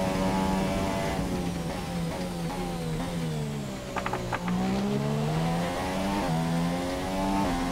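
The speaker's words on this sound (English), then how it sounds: "The engine made a strange note there." A Formula 1 car engine in the F1 2017 racing game at Bahrain screams loud and close, its pitch climbing and dropping through gear changes with a few brief clicks partway through, and no talk over it.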